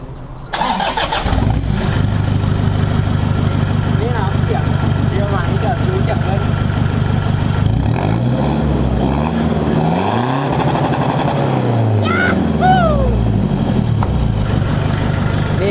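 A remapped car engine with new rear shocks starts up, puffing a little smoke, settles into a rumbling idle, then revs up and down several times, loud and close, with a voice occasionally heard over it.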